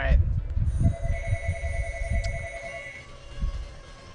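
A telephone rings with a steady electronic tone under someone talking, the ring lasting a few seconds before cutting off.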